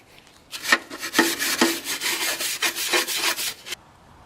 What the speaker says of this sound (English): Now I'll finish wiping down the machine and scrape the bottom. It's helpful to also use a brush.